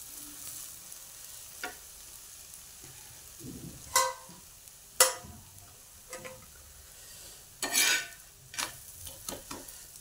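Moong dal and jowar flour dhirde roasting on a hot pan, giving a soft steady sizzle with occasional scrapes and taps of a spatula, quiet and close.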